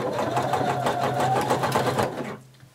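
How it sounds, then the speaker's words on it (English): A sewing machine running a very wide zigzag stitch on elastic along the edge of swimsuit fabric gives a fast, steady rhythmic whirr close up, then stops abruptly near the end. "I'm going to be using a very wide zigzag stitch."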